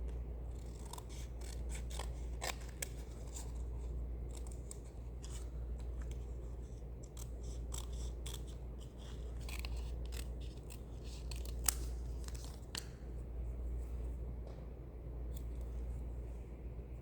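Scissors make repeated crisp snips through a strip of cardstock, close and quiet with short pauses between cuts, and no talk.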